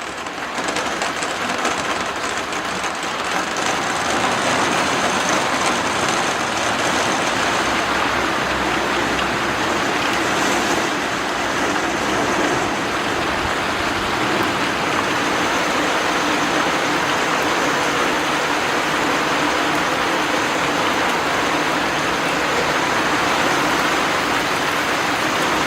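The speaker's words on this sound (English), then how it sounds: "Here comes the rain." Heavy rain drumming on a greenhouse during a July downpour, a dense, loud, continuous wash of patter that holds steady throughout with no voices.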